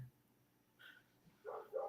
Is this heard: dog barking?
yes